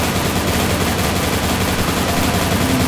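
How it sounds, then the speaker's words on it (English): A machine gun fires in the video game Incision, a dense, loud, unbroken stream of rapid shots filling the whole stretch without pause. "Oh yeah, I forgot about the machine gun."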